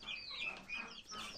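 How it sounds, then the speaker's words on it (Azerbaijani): Hen clucking softly among chicks at feeding, a short, faint run of calls heard alone. "Ana toyuq bütün yemləri eşəliyib verir düzələrinə, nələrsə öyrətməyə çalışır."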